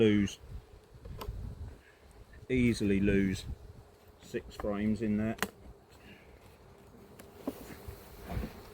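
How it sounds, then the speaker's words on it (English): Someone speaks in short phrases over a faint, steady buzzing of honey bees around a hive heavy with honey in an apiary, with occasional clicks and knocks. "masses and masses of bees there."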